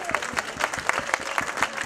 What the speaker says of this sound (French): Sensible aux applaudissements auvergnats